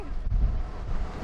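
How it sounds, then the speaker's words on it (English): Strong wind buffets a boat on an excursion off Aruba, a steady low rumble of gusts hitting the microphone, close and constant. "Very windy."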